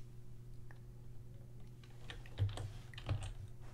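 Keystrokes on a computer keyboard while typing code, a few faint scattered taps with two slightly louder clicks near the end, set against a steady low electrical hum.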